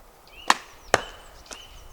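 Three sharp thwacks of arrows striking a target at an outdoor camp, the first two loud and close, the third fainter, with quiet outdoor ambience between.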